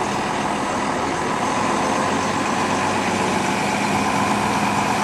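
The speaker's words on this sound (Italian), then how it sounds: "E il pullman che è arrivato." A bus arrives at Patitiri on Alonissos, its engine a steady, fairly loud rumble that holds without a break, with no voices over it.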